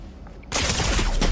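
An enemy player's gun in Fortnite opens fire after a quiet moment, a sudden loud, close burst of rapid shots that continues to the end.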